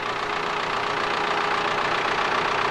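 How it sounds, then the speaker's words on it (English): A tractor engine drives a pump moving maple sap from one tank into a large 400-gallon tank, giving a loud, steady, unbroken mechanical drone with no voices over it. "They're pumping the water or the sap out of that tank by the use of this tractor into the tank"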